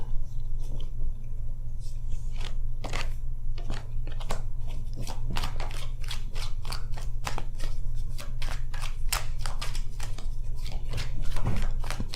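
Tarot cards being shuffled by hand, a continuous run of quick papery riffles and snaps at close range over a steady low hum, with no talking.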